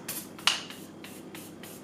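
A setting spray is misted onto a face as makeup primer in about six short, soft, hissing spritzes, close by and spaced at an uneven pace, with no talking.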